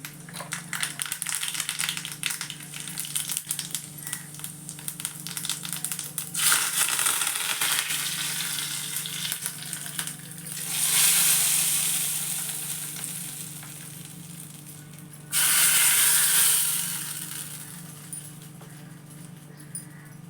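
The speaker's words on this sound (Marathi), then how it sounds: "मी त्याला आता फोडणी घालते" Hot tempering sizzles as it is poured into a loose chutney off the stove, a steady crackling fry that swells into two louder hissing bursts, close up with no talk.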